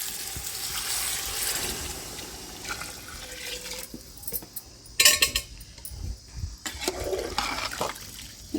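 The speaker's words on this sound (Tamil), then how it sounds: "அந்த தண்ணி தான் இப்போ சேர்க்க போகிறேன்." Heated water is poured into a pot of village-style chicken dum biryani, giving a steady splashing rush for a few seconds, followed by quieter pauses and a few clattering bursts of handling.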